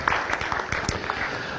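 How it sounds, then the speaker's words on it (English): Short burst of scattered applause for library staff at a youth poetry contest event in Menlo Park, a modest audience clapping at moderate loudness with individual claps distinct, fairly close. "Give them a round of applause."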